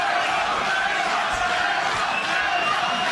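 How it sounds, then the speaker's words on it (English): Dense, steady roar of a crowd at a cage fight cheering for fighter Emrah Sonmez, a loud continuous wash of voices that holds at one level throughout. "And the crowd roaring for Emrah Sonmez"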